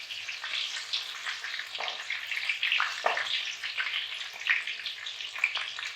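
Fish fries in hot oil in a pan on a stove, giving a steady close sizzle dotted with small crackles and pops, with no voices.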